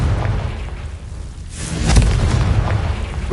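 The Confringo explosive spell goes off in Hogwarts Legacy as a loud, rumbling boom that swells into a heavy burst and a sustained low roar, with no talking.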